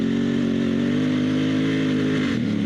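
A dual sport motorcycle on Kenda K784 knobby tires pulls hard under acceleration, its engine a loud, steady close drone that shifts pitch briefly near the end, with no talking.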